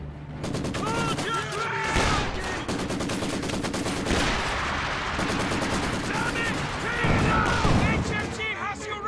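Heavy machine gun fire rattles in rapid bursts through a battle in a strategy video game, sharp repeated cracks under distant explosions and radio-style voices shouting.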